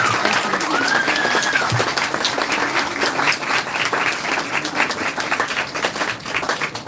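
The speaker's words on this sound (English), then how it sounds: "Another round of applause," Sustained applause from an audience at an evening event in Salt Lake City, a dense, steady wash of clapping that fills the whole stretch, with a brief cheer or whistle near the start.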